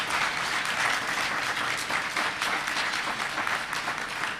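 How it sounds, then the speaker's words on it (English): Sustained applause from a conference audience at a Sivananda spiritual gathering after a musical troupe's performance, an even, continuous patter of many hands at moderate distance. "Please give them another round of applause"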